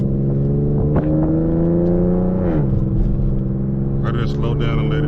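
A car's engine winds down as it slows and the transmission shifts down on its own, the tone dropping partway through, with a brief rev and some clatter near the end, close and steady inside the cabin.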